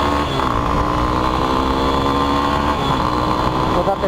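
A 450 motorcycle engine runs steadily and loudly throughout while being ridden, a continuous droning hum that stays close and constant, with the rider speaking over it.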